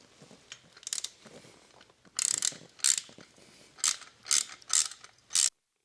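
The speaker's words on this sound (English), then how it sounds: "We'll switch back to our ratchet." Ratchet tightening a bolt on the ignition coil cover of a Harley-Davidson Touring motorcycle, several short bursts of rapid clicking ratchet strokes close up, separated by brief pauses.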